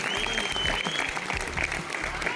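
An audience claps in a hall during a motivational business talk, a brief burst of steady, fairly close applause with some voices mixed in.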